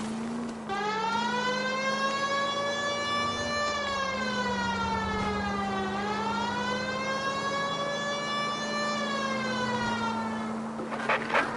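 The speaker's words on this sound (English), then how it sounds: "If you're gonna drive like this, at least use the siren." A police car siren from the video game L.A. Noire wails continuously and loudly, rising and falling in long smooth sweeps over a steady engine drone, with no talking.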